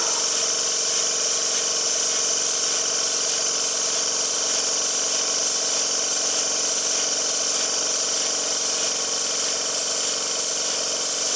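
An air compressor runs continuously in a workshop beside a double Tangye mill engine, a loud steady mechanical drone with rapid regular pulsing throughout and no voices.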